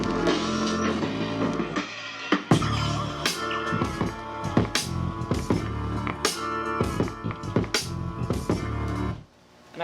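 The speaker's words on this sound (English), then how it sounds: "I put a little drum fill in to just help transition back into the" A loud hip-hop beat for a track pounds along with punchy drum hits, then a drum fill leads the transition back into the verse before the music cuts out abruptly near the end.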